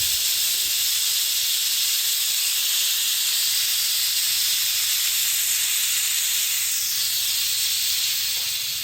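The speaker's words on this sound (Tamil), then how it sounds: "அடுப்பு மீடியம் ஃப்ளேமில் வச்சுட்டு குக்கரில் 7 இல்லை 8 விசில் வச்சா போதும்." A pressure cooker releases steam on a medium flame while cooking mutton keema curry with peas, a loud, continuous hiss that stays steady and close for nearly nine seconds.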